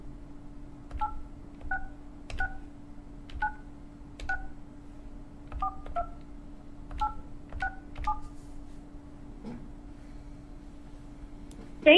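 A telephone keypad dials a number to reach Hostgator phone support, a steady dial tone underneath as a dozen or so short DTMF beeps sound one by one in an uneven rhythm, each tone clear and close.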